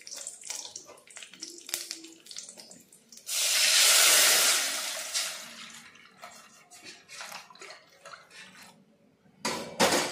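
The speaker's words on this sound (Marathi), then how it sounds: "आता मी 1 लिटर दूध ऍड करते" A litre of milk pours into a pan of ghee-fried dry fruits for rice kheer, making a steady broad hissing splash for a couple of seconds, with scattered clinks of utensils before and after.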